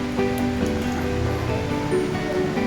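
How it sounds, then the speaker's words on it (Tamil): Steady rain falls outdoors, a dense continuous hiss with a faint tonal hum underneath, with no speech. "மழை நல்லா பெஞ்சிட்டு இருக்கு."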